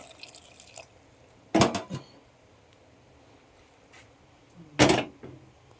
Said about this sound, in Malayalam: ഇനി ഇതിലേക്ക് ഇത് വേവാൻ ആവശ്യമായ കുറച്ച് വെള്ളം ഒഴിച്ച് കൊടുക്കും